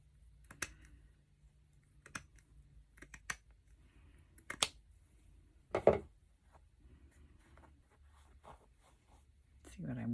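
Scissors trim fabric scraps for a Christmas tree craft, giving a few sparse, faint snips and clicks spread across a quiet room.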